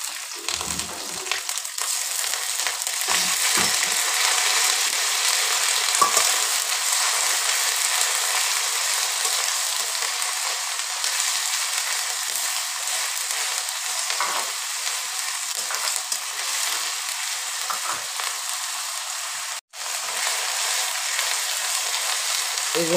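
Onion and garlic paste frying in mustard oil in a wok for a mutton curry gives a loud, steady sizzle throughout, with a brief dropout near the end.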